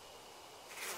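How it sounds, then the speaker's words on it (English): Bees buzz in the video game Death Mark, a faint continuous drone that swells louder in the final moments of a very short stretch. "Stinky liquid, so this attracts the bees."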